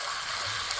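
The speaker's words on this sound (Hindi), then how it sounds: "अब इसके अंदर हमने आधा कप पानी डालना है" Half a cup of water poured into a cooking pot while making Lahori chikar cholay, a short steady splashing stream heard up close with no voices.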